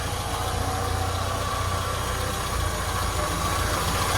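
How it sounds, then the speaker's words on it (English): A Mini's 1275 A+ engine with an older cylinder head idles close by under the open bonnet, a steady low, throbbing rumble with a faint rhythmic tick, and no one talking. "1275 engine, and it's an A+ engine"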